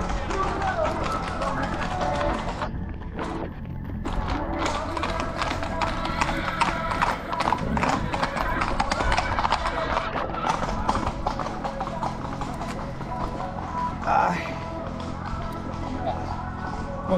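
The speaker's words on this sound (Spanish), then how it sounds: "Vaya, hay bastantes caballos" Many horses, several of them white, walk along a road at the Romería do Cabalo horse pilgrimage in Quintela, Pontellas, their hooves clip-clopping steadily and close by, with occasional whinnies and background voices.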